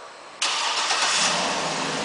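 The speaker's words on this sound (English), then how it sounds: "the car starts right up" A 2008 Cadillac Escalade 2WD, locked and started by remote, fires up abruptly with a sharp crank catch, then settles into a steady, fairly loud idle that holds close by with no talking.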